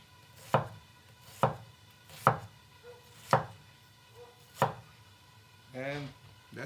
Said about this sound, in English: I cut them down in the middle, and then I cut with the grains.